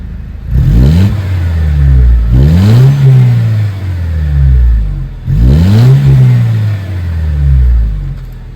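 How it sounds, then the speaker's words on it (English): A Mercedes SLK 200 engine revs three times, each rise climbing sharply then falling back to a deep idle, loud and close with no talking. "I'm gonna give you guys a little rev."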